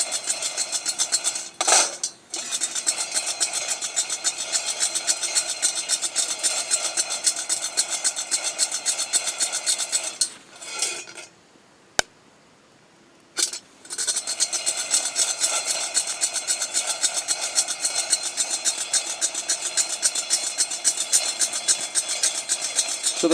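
A coffee roaster runs steadily while roasting Sumatra beans toward a fairly dark roast, giving a constant mechanical whir and rattle that stops briefly partway through before resuming.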